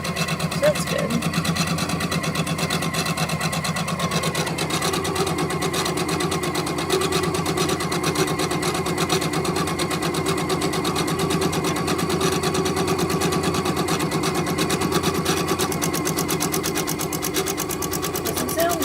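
Sewing machine stitching a bean bag for a ball-jointed doll, a rapid steady mechanical chatter running continuously near the microphone while a person talks over it.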